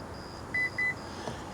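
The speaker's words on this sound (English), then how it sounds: "You hold the button down right here until you hear the beeps." Two short, clear electronic beeps from a Honda minivan's power tailgate as it confirms the height setting, evenly spaced under faint background hiss.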